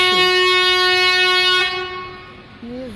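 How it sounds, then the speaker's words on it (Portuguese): A bus sounds its horn nearby, a loud sustained single blast lasting over a second before cutting off, followed by a voice speaking. "Um ônibus buzinando ali"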